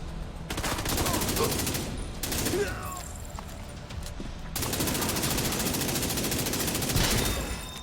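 Automatic and rapid gunfire in The Division 2 video game, loud sustained bursts broken by brief pauses, with faint radio-style game voice cues underneath.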